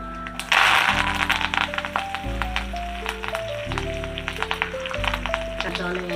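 Cumin, chana dal, urad dal and curry leaves sizzle and crackle in hot oil for tempering, a steady frying hiss with a sharp burst as they go in and a few light stirring taps.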